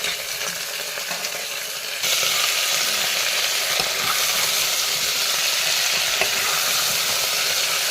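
Chicken meat and potatoes fry together in a pan for a local chicken curry, a dense steady sizzle that jumps louder after a couple of seconds and then holds, with faint stirring scrapes.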